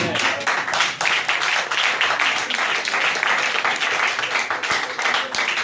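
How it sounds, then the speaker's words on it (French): A Sunday church congregation applauds steadily, dense continuous clapping throughout with voices mixed in. "Acclame le Seigneur."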